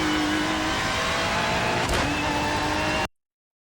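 A race car on the Bathurst circuit in the iRacing video game holds a steady engine drone, with a short thump as it jumps over a curb midway, then cuts off abruptly.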